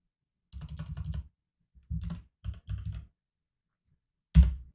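Typing on a computer keyboard, close and clear, in three quick clusters of keystrokes followed by a single sharp key press, with silence in between.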